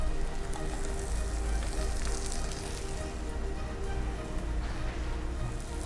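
Sliced mushrooms for risotto sizzling in a hot pan, a steady crackling hiss close by and evenly loud, with no voices.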